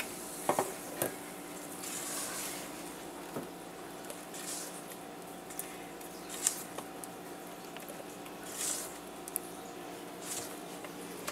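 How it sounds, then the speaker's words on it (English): Red velvet cupcake batter being stirred and folded in a bowl, a soft wet swishing and scraping with occasional light taps of the utensil against the side, fairly quiet and close, with no talk. "We'll give it a little quick stir here, and get it into this cake. And we're just going to fold it into our cake."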